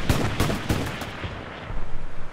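Heavy gunfire and blasts from a tank shooting out building windows in Hell Let Loose, several sharp loud reports in the opening second followed by rumbling decay and a later low thump, with no talking.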